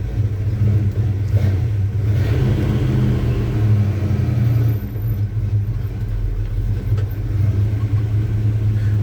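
A 1984 Chevy C10 pickup with a 307 V8 engine rumbles steadily and loudly as it backs out over leaves. The low engine drone stays continuous, with slight swells in revs and no speech.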